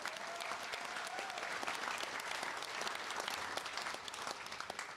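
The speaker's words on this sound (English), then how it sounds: "Give yourselves another round of applause" Steady applause from a crowd at a bowls World Champion of Champion Singles finals day, many hands clapping continuously at an even level throughout.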